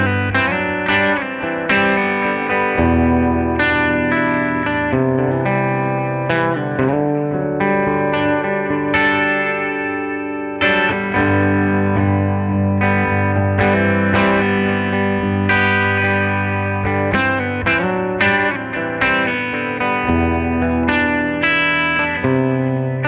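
Overdriven electric guitar chords and single notes ring out steadily through a Marla Amps 15-watt all-tube combo amp, handmade in Asheville, North Carolina, with a warm, slightly distorted tone and light reverb, playing alone throughout.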